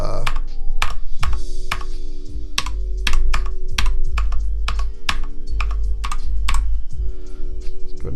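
Fast, uneven typing on a computer keyboard, loud and close, with crisp clacking keystrokes and occasional heavier thunks from the keys.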